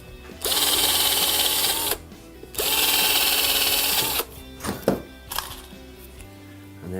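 Power drill boring small pilot holes into pallet wood for a bench, two sustained whirring bursts of about a second and a half each, close up, followed by a few short knocks and clatters.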